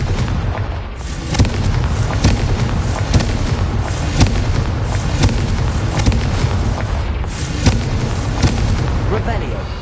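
Confringo fire-blast spells in Hogwarts Legacy go off as a rapid, dense string of loud booming blasts with sharp cracks, packed together over a constant rumble of combat noise for the whole stretch.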